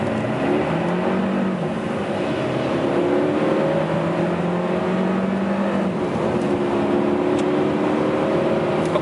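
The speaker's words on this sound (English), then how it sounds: "next we take this acceleration test 0 to 100 and 0 to 65 miles" A 2013–2019 Volvo S60 accelerates hard from a standstill toward 100, its engine note climbing through several gears with pitch rises and drops at each shift, heard steadily from inside the car.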